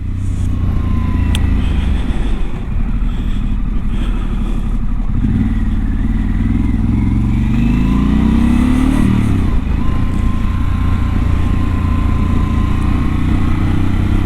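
A Harley-Davidson Pan America motorcycle rumbles steadily while riding off the beaten track, its engine loud and close with a brief rising rev in the middle, wind noise running beneath.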